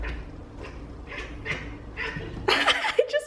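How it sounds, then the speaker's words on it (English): A house cat meowing near a window, a series of short, separate calls spaced about half a second apart, fairly close, followed by a louder burst of rustling and a brief voice at the end. "That's why she's meowing."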